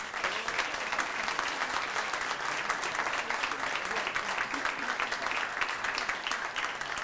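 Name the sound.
audience applause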